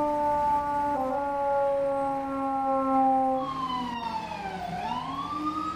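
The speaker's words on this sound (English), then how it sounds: "our final piece of equipment we're going to be bringing is the FDNY ambulance" An FDNY Ford ambulance siren in a Manhattan emergency-response game, a loud sustained wail that holds steady, then sweeps down and back up as the vehicle arrives.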